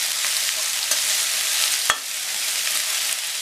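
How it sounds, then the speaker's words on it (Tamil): Chopped amaranth greens (sirukeerai) sauté in hot oil with a steady close sizzle, broken by a few soft stirring scrapes and one sharp tap of the spatula, with no talk. "கொஞ்சம் சேர்த்துட்டு வதக்கி விட்டுட்டு அப்புறம் கொஞ்சம் சேர்த்துக்கலாம்."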